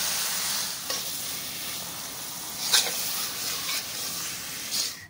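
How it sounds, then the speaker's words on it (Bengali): Marinated chicken fries in chicken kosha masala with a loud, steady sizzle and hiss, broken by a few scraping stirs of a spoon against the pan. "ঠিক এই স্টেপে আমি দিয়ে দেবো ম্যারিনেট করে রাখা মাংসগুলো"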